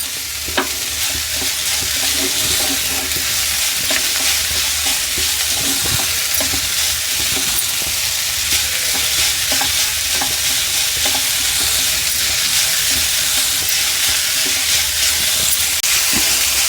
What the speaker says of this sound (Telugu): అంతా మంచిగా వేపుకోవాలండి ఇట్లా